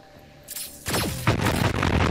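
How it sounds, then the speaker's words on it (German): A coconut grenade in the video game Starsand explodes close by: a sudden booming blast after a brief quiet, then a second heavy burst and rumbling debris noise, loud and close. "eine Kokosgranate, die direkt daneben explodiert"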